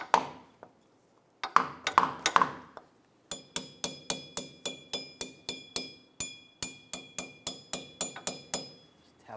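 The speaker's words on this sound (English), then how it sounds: "take a piece of wood and a hammer and just tap it on" A hammer taps a wooden block against a wheel bearing and hub assembly on a 2004-2009 Toyota Prius in a steady series of sharp knocks, a few scattered hits first, then a quick regular run of blows.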